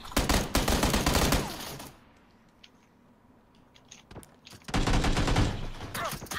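M16 rifle gunfire in PlayerUnknown's Battlegrounds, dense loud bursts of rapid shots at the start and end with a quieter lull and a single crack in the middle.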